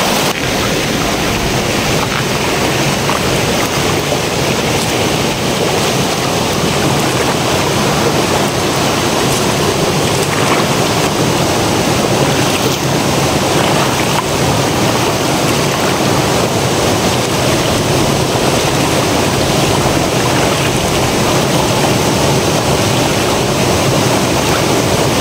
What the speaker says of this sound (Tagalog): Maganda po yung agos ng tubig.